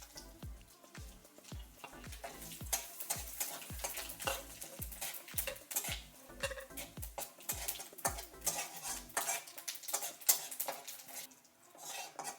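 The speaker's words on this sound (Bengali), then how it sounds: "ফোড়নে দেবো একটা তেজপাতা, গোটা জিরে আর 3টে শুকনো লঙ্কা।" A bay leaf, whole cumin and three dried chillies crackle and sizzle in hot oil in a wok, with repeated close metal clinks and scrapes of a spatula stirring in a rapid rhythm; no one speaks.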